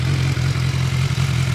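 A 2018 BMW S1000 XR motorcycle with its stock exhaust idles close by, a steady low, even engine drone with a faint mechanical clatter and no revving, heard alone.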